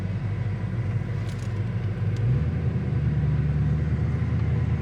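A 1981 Chevrolet Camaro Z28 pulling away as the clutch releases, its engine rumble steady and then deepening into a fuller low drone partway through, heard from inside the car with no talking.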